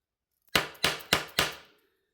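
Four quick, sharp metallic taps in an even rhythm against a Kansept Kratos folding knife during disassembly, close and crisp with short ringing decays, then quiet.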